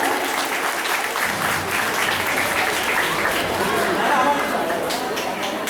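An audience at a Sodepur Art Centre event applauds in a dense, sustained burst of clapping that lasts the whole stretch, with some crowd chatter mixed underneath.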